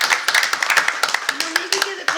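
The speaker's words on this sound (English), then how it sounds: "Clap for you one more time." Scattered hand clapping at a Board of Education meeting, a small group giving short uneven claps over about two seconds, with a voice talking over them near the end.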